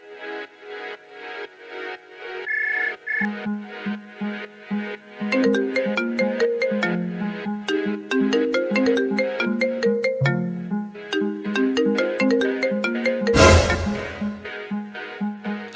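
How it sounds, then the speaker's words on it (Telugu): A phone ringtone plays a repeating melodic tune for a friend's call, clear and close, steady for about fifteen seconds before a short burst of noise near the end. "వీడి ఫ్రెండ్కి కాల్ చేద్దాం, కృష్ణ."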